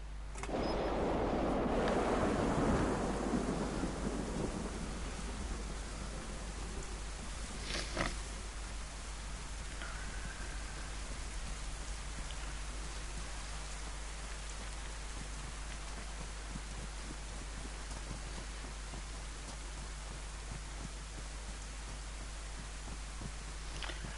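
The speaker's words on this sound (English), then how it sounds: "it's raining." Steady rain patters on surfaces in the DayZ video game, a soft constant hiss with a louder wash at the start and a few faint knocks, no thunder clearly heard.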